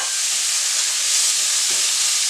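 Carrots, peppers, peas and onions hit a very hot pan for veg fried rice, giving a strong continuous sizzling hiss that swells slightly midway, with no voices.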